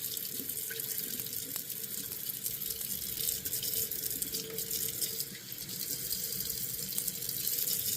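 A kitchen tap runs lukewarm water for a simple bread dough, a steady close splashing stream that lasts throughout with no talk.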